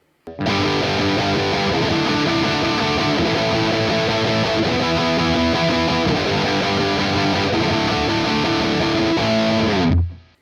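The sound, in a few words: distorted guitar through Amped Dual plugin, Tight and Thick preset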